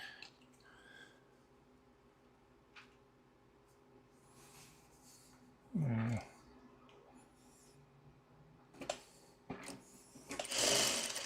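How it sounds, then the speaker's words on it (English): A sewing machine stitches fabric in short bursts, with one loud rapid run of needle chatter midway and a quick burst near the end, set among quiet rustling, taps and a person talking. "Crazy sewing there."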